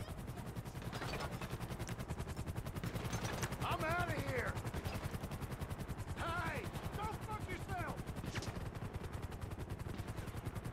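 Helicopter and rapid gunfire in the video game GTA 5 form a continuous, fast chopping clatter throughout, with players talking over the din.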